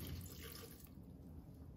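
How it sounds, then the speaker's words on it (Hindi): Water pouring into a pressure cooker while cooking a vegetable dish, a steady, continuous splashing trickle heard close up with no talking over it. "अब हम इसमें आधा कप पानी डालेंगे"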